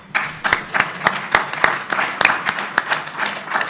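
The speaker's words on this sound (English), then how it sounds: "So please clap." A room of convention-goers at a Libertarian Party gathering breaks into applause, sharp individual claps standing out over a steady rustle of hands, fairly close and lively throughout with no talking.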